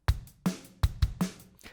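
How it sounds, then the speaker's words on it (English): A quick drum beat in fast 4/4: punchy kick and snare hits alternating in a brisk, steady pattern, close and clear with no other sounds. "So for example, a fast 4/4 sounds like this,"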